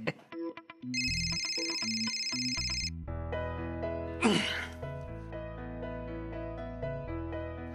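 A phone rings with a bright electronic ringtone that sounds for about two seconds over soft background music, followed by a sudden swell of music.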